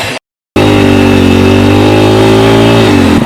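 Homemade car engine with wooden wheels running loud and close after a brief silent gap, a steady droning hum with a faint rise in pitch near the end.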